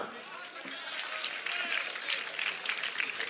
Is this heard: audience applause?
yes